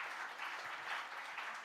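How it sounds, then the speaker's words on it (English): Audience applause at a ThinkEdu 2023 education conclave in the ITC Grand Chola hall, a steady, fairly faint wash of clapping from a seated crowd that holds level for a brief stretch without voices. "I think you guys should give a very big round of applause."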